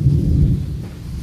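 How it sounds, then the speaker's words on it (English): Thunder in a thunderstorm rolls as a brief, loud, low rumble that fades slightly toward the end, with no voices. "listen to the thunder and watch it rain"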